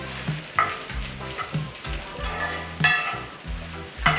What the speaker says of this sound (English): Now I'm searing the meat.